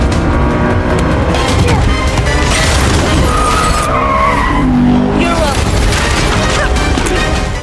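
Car tires skidding as a vehicle turns sharply during a chase, a loud sustained screech with engine roar and crashing, close and continuous.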